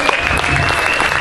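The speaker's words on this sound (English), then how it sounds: "thank you for keeping your applause going" A comedy club crowd keeps up lively applause for a stand-up comedian, a loud continuous burst of clapping with some crowd noise mixed in.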